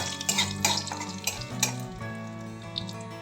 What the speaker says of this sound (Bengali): সিকি চামচ কালো জিরে দিলাম সঙ্গে দেব খুব সামান্য হিং দিয়ে একটু নেড়ে নিচ্ছি